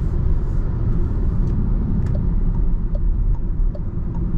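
Renault Megane E-Tech electric car accelerating in Comfort mode, a steady, loud low rumble of road and motor noise with faint higher tones rising over the few seconds, no talking.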